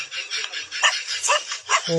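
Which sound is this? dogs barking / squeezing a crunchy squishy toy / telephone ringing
dogs barking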